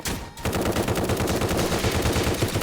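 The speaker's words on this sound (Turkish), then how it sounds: "ne biçim vuruyor bu silah? Manyak vuruyor." Rapid automatic gunfire from a weapon in a Squid Game video game, a loud continuous burst of machine-gun shots rattling steadily for several seconds after a brief pause.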